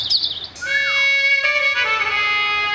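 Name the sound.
birds chirping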